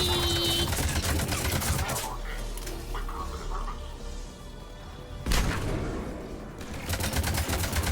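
Rapid gunfire in the video game Mass Effect 3, with loud dense bursts at the start, a sharp burst near the middle and more shots toward the end, mixed with game effects.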